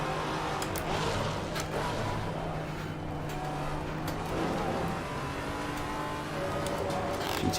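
GT3 race cars in Assetto Corsa Competizione close in from behind at Oulton Park on a multiclass grid, engines droning steadily with rising revs and passing tones while the player's Maserati GT4 runs ahead.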